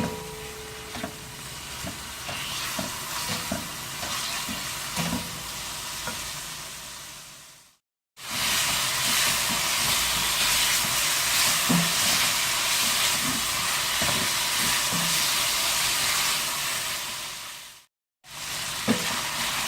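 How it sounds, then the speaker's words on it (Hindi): Marinated chicken cubes fry in a pan with a loud, continuous sizzle and hiss, steady throughout, with occasional stirring taps and two brief cuts to silence. "ये चिकन क्यूब्स हैं और मैरिनेट हो चुके हैं 10-15 मिनट, तो इसलिए इसे जो है मैं फ्राई करूँगी जस्ट 3 to 4 मिनट्स"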